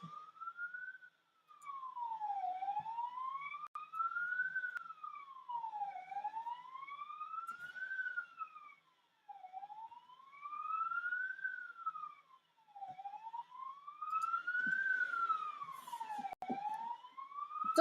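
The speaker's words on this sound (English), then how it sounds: "Oh, there's a siren going past." An emergency vehicle siren passes outside, wailing up and down in long repeated sweeps at a steady moderate level, with no voices over it.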